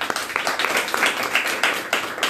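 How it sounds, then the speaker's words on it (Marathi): Audience applause at a Maharashtrian ladies' Mangalagour cultural event, brisk uneven clapping from a moderate group with sharp individual claps standing out, loud and close. "तर हे खरंच एक त्या सगळ्यांसाठी जोरदार टाळ्या."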